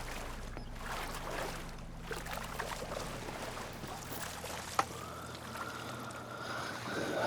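Swimming through water in the video game Horizon Forbidden West, a steady wash of sloshing and splashing with a low rumble underneath and one small sharp click midway, no voices.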